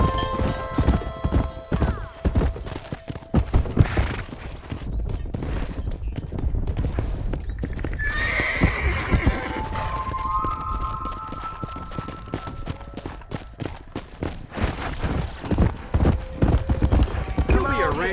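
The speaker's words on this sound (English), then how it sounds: "Control that horse, will ya?" Horse hooves clip-clop in steady, fast beats in the video game Red Dead Redemption, close and loud, with a whinny partway through and people talking over them.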